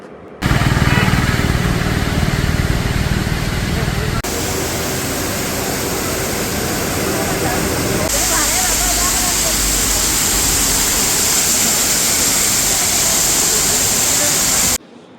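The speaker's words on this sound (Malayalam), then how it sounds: "അങ്ങനെ നമ്മൾ വളഞ്ഞങ്ങാനം വാട്ടർഫോൾസിൻ്റെ അടുത്തെത്തി." Valanjanganam waterfall with reduced water flow, a constant broad roar of falling water, loud and close, steady throughout without noticeable talk over it.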